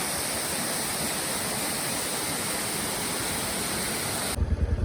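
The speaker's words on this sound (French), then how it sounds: "on se trouve ici au creux de la cascade" A waterfall in a Brazilian forest pours in a steady, dense roar heard up close from its base, continuous and unbroken, with a brief low rumble at the end.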